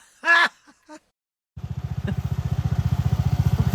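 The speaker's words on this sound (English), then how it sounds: "Turn off the tractor!" A tractor engine turns over and settles into a loud, steady, close chugging idle after a brief shouted voice and a moment of silence.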